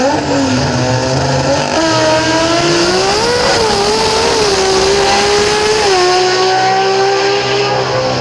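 Top fuel nitro funny car launching down the drag strip at Willowbank Raceway, a loud sustained engine roar with pitch climbing and shifting as it accelerates away, continuous for several seconds.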